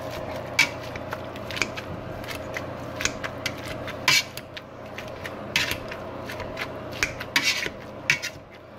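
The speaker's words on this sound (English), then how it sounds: "I like to start off with the masher" A potato masher works through cooked potatoes in a pot, producing repeated metallic scrapes and soft squelching presses against the pot in an irregular rhythm, close and fairly quiet with no talking.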